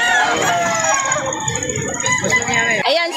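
A Lemon Sweater rooster crows loudly and close at a busy chicken market in Lipa City, Batangas, with clucking fowl and voices mingling around it.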